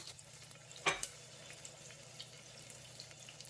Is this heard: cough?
no